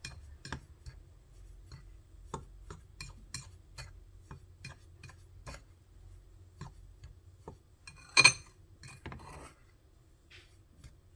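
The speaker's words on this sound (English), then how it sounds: "I am going to give this a stir until it's mixed together well" Salt is stirred into a mixture in a bowl, heard as a run of light, irregular utensil taps and clinks against the bowl, with one brighter scrape near the end.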